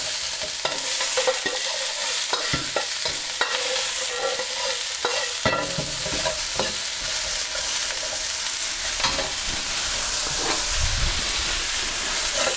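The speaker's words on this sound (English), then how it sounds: "I'm just going to cook this onion now for about 2 minutes." Onion frying in a pan and being stirred, a loud, steady hissing sizzle up close with regular scrapes and knocks from the utensil, with no talking.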